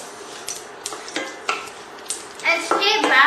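Curry leaves and popped mustard seeds are stirred in a hot pan, with a spoon knocking and scraping the metal in separate strokes before a burst of louder crackling sizzle near the end, close up.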